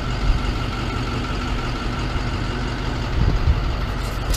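A truck engine idles steadily at close range before a road trip, a constant low rumble with a slight swell near the end, with no voices.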